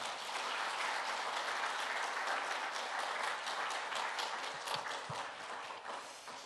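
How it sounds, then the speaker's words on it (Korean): Sustained applause from a church congregation at a Korean Sunday service, welcoming a missionary preacher from Kenya to the pulpit; steady, dense clapping throughout that tapers slightly toward the end. "우리 박수로 환영해 주시기 바랍니다."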